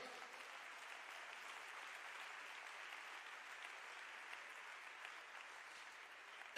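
Sustained applause from a church congregation, an even, moderately distant patter of many hands clapping that continues steadily for several seconds.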